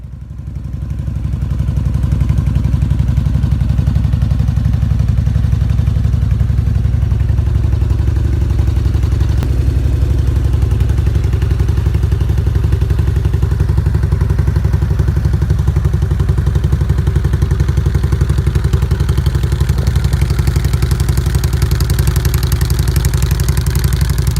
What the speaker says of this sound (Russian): Шикарный двухместный трехколесный канадский автомобиль компании VIT-13R, который сочетает в себе черты легкого спортивного автомобиля с открытым кузовом и мотоцикла.